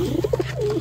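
English tippler pigeons coo nearby, a short run of soft rounded notes over a low steady hum.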